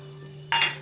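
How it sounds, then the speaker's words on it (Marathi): Sesame seeds hit a wok of hot tempering oil with mustard seeds, cumin and a garlic-chilli paste, setting off a sudden loud, bright sizzle after a low steady hum. The sizzle stays strong briefly, then eases slightly. "दोन मोठे चमचे तीळ तीळ छान कढईमध्ये परतून घ्यायचे"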